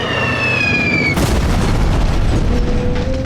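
A tank fires a shot at a concrete bunker: a loud, heavy boom breaks over a fading whine and rolls on as a long, rumbling roar, with a faint tone emerging late.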